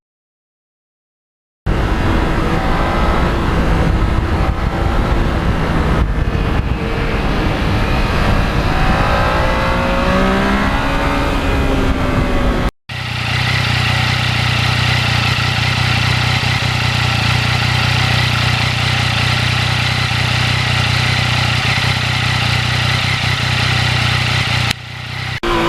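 A 2020 Yamaha MT-09 motorcycle rides along an open road, its engine note rising and shifting through gears under heavy wind roar, then cutting to a steadier cruising drone, with no talk.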